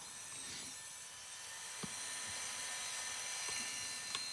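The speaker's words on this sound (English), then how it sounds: "Now we're moving on to the bandsaw." A bandsaw cuts scrap wood with a continuous thin whine and faint scraping, a few soft knocks breaking the steady hum at moderate distance.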